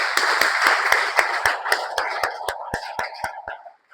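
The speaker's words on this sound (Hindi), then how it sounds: "तो तीनों लोग के लिए जोरदार तालियां होनी चाहिए" Audience clapping for three speakers at a motivational talk, a rhythmic run of sharp, fairly loud claps over a soft wash of crowd noise, slowing and stopping after about three and a half seconds.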